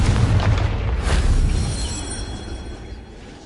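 A Confringo blasting spell goes off in a Harry Potter video game with a loud, deep boom that rumbles and slowly fades over a few seconds, alone with no talking.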